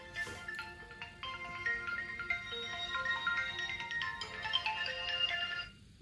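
A melodic phone ringtone plays continuously for several seconds, a bright repeating tune of electronic tones, moderately loud with no voices.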